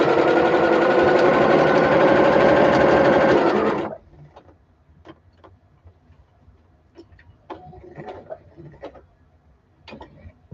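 A sewing machine quilting fabric runs in a loud, steady whir for about four seconds, then stops, leaving quiet ticks and light handling clicks.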